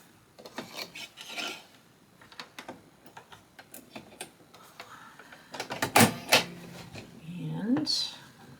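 A single-needle embroidery machine is threaded by hand, with small rubbing, scraping and ticking sounds of thread and parts close up, and a voice briefly heard near the end.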